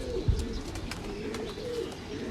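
Soft, low pigeon cooing close by, a continuous murmuring burble against a steady background hum.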